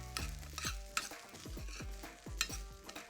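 Pesto is mixed into cooked quinoa in a pan with a quiet soft sizzle underneath, the spoon scraping and tapping the pan in a quick, fairly regular stirring rhythm.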